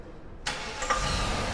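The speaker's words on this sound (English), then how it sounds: "Let's hear your car." A car engine cranks and catches after a short quiet moment, then keeps running with a steady close rumble.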